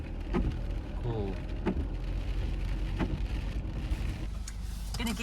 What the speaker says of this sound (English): And now it's raining heavily again.